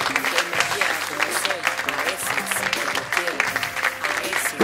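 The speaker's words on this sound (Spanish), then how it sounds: "Fuertes aplausos." An audience applauds the performers at a women's day event at a workers' museum, with clapping and crowd noise mixed with voices talking over it at a lively, uneven level.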